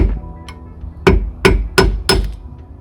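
A hammer strikes a screwdriver wedged behind a car's rear brake hub cap to pry it off: four sharp metallic taps in quick, even succession, close and clear, after a faint lighter tap.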